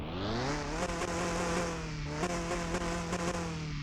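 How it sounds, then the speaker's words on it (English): A Lotus Elise engine in the video game Car Mechanic Simulator 2021 revs up and holds a steady, buzzing drone with rising harmonics and a few brief dips, loud and continuous, with no talking. "let's give it some gas"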